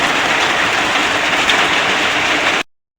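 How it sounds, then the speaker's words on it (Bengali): Steady hiss of rain falling continuously, dense and even, before the sound cuts off abruptly near the end. "বৃষ্টি পড়তেছে"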